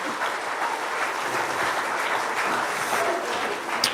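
Steady, dense applause from a concert audience for set dancers at a Comhaltas traditional music gathering in Milltown, Rathconrath, sustained and even throughout without pause.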